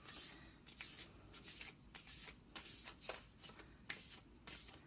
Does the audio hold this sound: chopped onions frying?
no